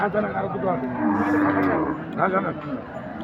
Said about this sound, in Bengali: অনেক বিশাল আকৃতির উঁচা লম্বা একজোড়া বলদ এগুলা বোর্ডার ক্রস বলদ হরিয়ানা